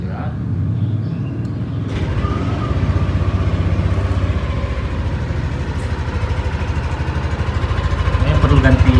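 A small Yamaha NMAX scooter engine idles nearby with a steady, throbbing rumble that grows slightly louder near the end; the exhaust needs replacing.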